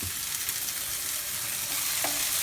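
Chopped garlic frying in a pan gives a steady, close, bright sizzle that holds evenly and stands alone.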